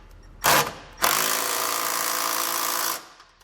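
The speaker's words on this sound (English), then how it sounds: "you need to take a wrench and hold the other side of the bolt while" A wrench tightening a nut on a hidden trailer hitch bolt of a 2020 Nissan Leaf, heard up close: a short loud burst, then about two seconds of steady, harsh mechanical whirring that stops abruptly.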